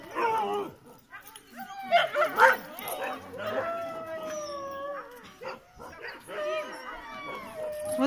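Several thin dogs at a kennel in Tver region bark, yelp, whimper and howl close by, with overlapping cries and drawn-out whines rising and falling in irregular bursts.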